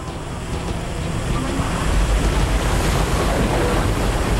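Raging floodwater from a river swollen far above its normal level roars as a loud, continuous rushing wash that thickens after the first second and carries on unbroken.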